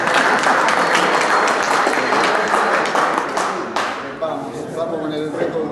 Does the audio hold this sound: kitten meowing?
no